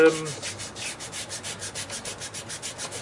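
A multi-branch burl wood hollow form being hollowed out, with a close, rhythmic rasping scrape repeating in steady even strokes, about five or six per second, with no voices.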